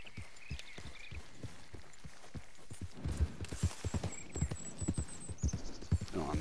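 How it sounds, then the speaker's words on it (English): Horse hooves clip-clop in a steady galloping rhythm as a rider leaves camp in Red Dead Redemption 2, the thuds growing louder and denser midway with faint bird-like chirps in the background. "So, jump on the horse, quickly ride out of camp."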